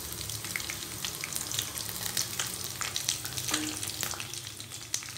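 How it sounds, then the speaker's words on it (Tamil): Mustard seeds, curry leaves and green chilies fry lightly in sesame oil, giving a steady close sizzle with soft crackles and occasional sharp pops throughout. "நல்லெண்ணெய் ஊற்றி, அதில் வந்து கடுகு, கருவேப்பிலை, பச்சை மிளகாய் மூணையும் போட்டு லைட்டாக ஃப்ரை பண்ணிடுங்க."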